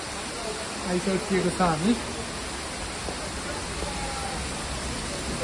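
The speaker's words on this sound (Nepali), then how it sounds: "बाहिर त अमेजिङ पानी नै परिरहेको छ" Rain pours outside a cave in the Shuklagandaki area, a steady broadband hiss that fills the whole stretch, with people talking briefly near the start.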